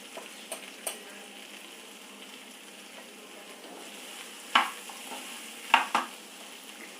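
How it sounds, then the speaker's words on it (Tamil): Vegetables with chilli and turmeric sautéing in oil for a South Indian lunch dish, a soft steady sizzle with a few sharp stirring clatters toward the end, no voices. "இது கொஞ்சம் எண்ணெயில் வதங்கட்டும்."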